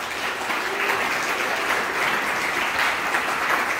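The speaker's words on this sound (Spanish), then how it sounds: "La recibimos, por favor, con un fuerte aplauso" Steady, dense applause from an audience greeting a presenter at a Miss 4K pageant event, sustained and fairly loud throughout with no voices on top.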